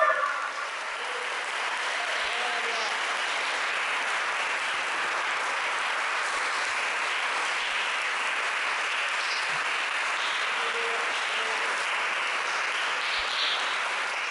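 A church congregation applauds during a worship service, a steady, moderately distant roar of many people clapping that holds evenly throughout, with no clear talk over it.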